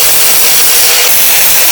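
Budget MIG welder laying a bead on galvanized steel, a loud, steady broadband crackle and hiss that holds unbroken for the whole stretch, close up and with no voices.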